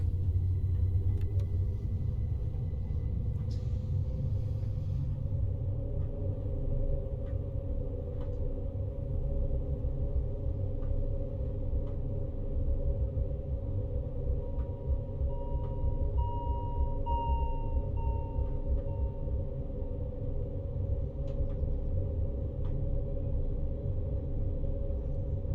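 A train on the Swiss Bernina line departing in a train simulator, a steady low rumble and motor hum that runs on evenly, with faint clicks and tones and no talking.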